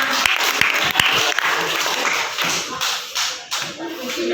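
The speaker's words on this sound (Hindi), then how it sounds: "वेरी गुड, जोरदार तालियां" Classroom applause from a ninth-grade class cheering a student's correct answer in a letter-chain word activity, with sharp, irregular claps up close over a room full of lighter clapping, thinning out toward the end.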